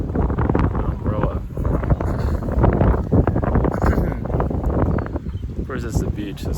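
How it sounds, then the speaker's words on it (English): Strong wind at the beach buffeting the microphone in a steady low rumbling roar with gusty surges, while a person talks over it throughout. "it's the beach, so it's going to be windier here than other places"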